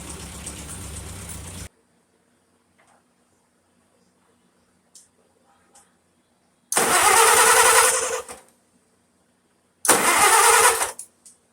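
A 1951 Farmall Super A tractor engine, just given an in-frame rebuild, cranks and fires in three loud, close bursts separated by long stretches of near silence.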